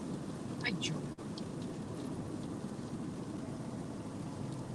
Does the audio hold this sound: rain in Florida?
yes